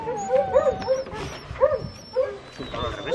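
A young two-year-old hunting dog from a Spanish boar-hunting pack whimpers and yips close by in a rapid string of high, wavering cries.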